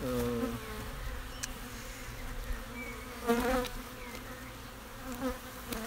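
Honeybees buzzing around a beehive, a dense, steady drone close by with individual bees swelling louder as they pass near.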